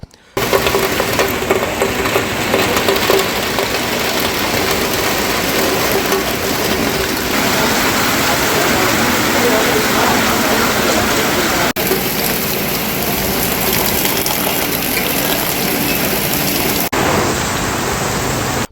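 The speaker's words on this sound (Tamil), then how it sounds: "திடீரென ஒரு மணி நேரத்திற்கும் மேலாக காற்றுடன் கூடிய கனமழை பெய்தது இதனால் சாலைகள் மற்றும் தெருக்களில் மழைநீர் பெருக்கெடுத்து ஓடியது" Heavy rain falls with wind over Madurai streets as rainwater flows along the roads, making a dense, unbroken hiss that stays loud and steady throughout with no voices.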